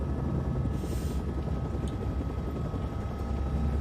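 Continuous low rumbling drone of a helicopter in flight, steady and fairly loud throughout without any talking.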